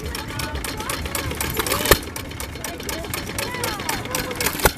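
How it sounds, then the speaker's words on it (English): A small engine belt-drives a pony ride, chugging in a fast, steady mechanical rhythm with sharp clanks, close and moderately loud, while people talk nearby. "little small engine, huh?"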